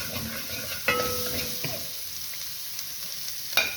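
Onions for Trini chilli frying in a pot give a soft, steady sizzle close by, broken by a few brief scrapes and clinks of stirring.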